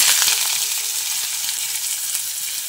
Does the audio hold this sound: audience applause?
no